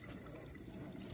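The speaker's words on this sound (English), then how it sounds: "Now I'm gonna rinse the sides just to make sure any shampoo water is completely gone down the drain." Tap water runs steadily into a sink while hair is rinsed, a soft continuous splashing trickle heard close and fairly quiet, with no talk.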